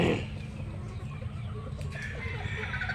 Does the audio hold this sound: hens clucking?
yes